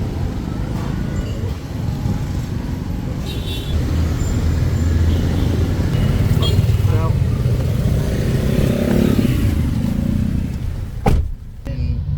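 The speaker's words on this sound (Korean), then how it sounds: "아, 오토바이" A motorcycle passes nearby amid steady street traffic in Ho Chi Minh City, with people talking over the road noise.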